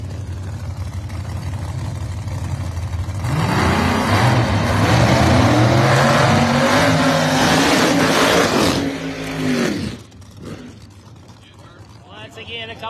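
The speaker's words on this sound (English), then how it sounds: "Once again, a couple of nitrous powered machines." Nitrous-powered drag racing cars at a pro test session roar loudly and rise in pitch as they rev and accelerate, then cut off sharply, leaving quieter crowd and ambience while an announcer talks over them.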